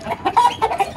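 Chickens cluck in a run of short, rhythmic bursts, close and fairly loud, with no talk over them.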